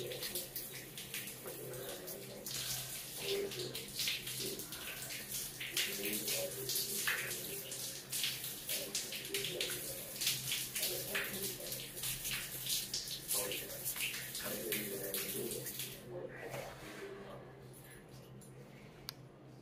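Tap water runs steadily while a face is being washed, splashing and dripping into a basin; a voice talks over it throughout, and the flow stops near the end.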